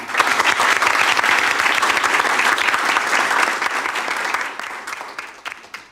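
Audience applause fills a school anniversary party, a dense, loud wash of many hands clapping together that holds steady, then thins out and fades over the final seconds.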